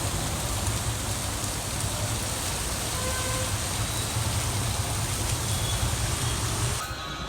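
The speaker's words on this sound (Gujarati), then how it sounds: "બહુ વરસાદ છે" Heavy rain pours down steadily, a dense, loud, even hiss of drops on surfaces with faint traffic in the distance, cutting off abruptly at the end.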